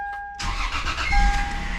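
A Toyota 2JZ engine in a street car build cranks and fires up on its first start, catching after a brief starter whine and settling into a loud, steady idle close by.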